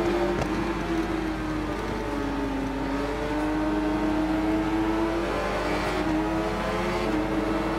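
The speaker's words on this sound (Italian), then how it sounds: "Tra l'altro sentite il rumore cupo di sta moto." A Yamaha R7 superbike in the Ride 4 racing game gives a steady, deep engine drone that climbs and dips with the throttle, continuous and close, with no talk.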